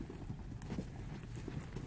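Horse hooves clip-clop in a steady, close rhythm during a riding practice session, a low continuous background rumble running underneath.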